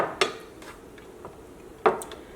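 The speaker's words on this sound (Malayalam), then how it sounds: "ഇതേപോലത്തെ ഒരു പാത്രം എടുക്കുക." A metal kitchen bowl is picked up and set down while potatoes are being prepared for frying, making two sharp clattering knocks about a second and a half apart, with quiet handling noise between them.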